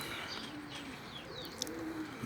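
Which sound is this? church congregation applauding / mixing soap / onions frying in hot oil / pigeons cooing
pigeons cooing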